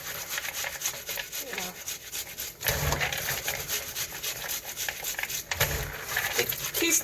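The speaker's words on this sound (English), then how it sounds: "So you have to just scrub it like this to remove the" Soaked beans being scrubbed by hand to strip their skins while preparing akara bean cakes, a continuous close wet rubbing and grinding with two brief louder surges of friction.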